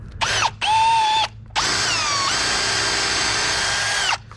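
A power drill bores holes through a wooden sill plate into a concrete foundation: two short whirring bursts, then a longer steady run, loud and close.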